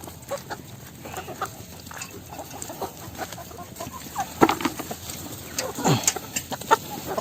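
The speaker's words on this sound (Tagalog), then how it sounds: "Mahilig po magbilad-bilad ang manok." Free-ranging chickens cluck in short, scattered bursts outdoors in the sun, moderately near, over a low hum of farmyard background.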